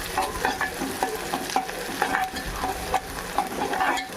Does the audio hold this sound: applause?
no